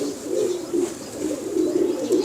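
A pigeon gives soft, low coos in a repeating rolling rhythm, fairly close and alone.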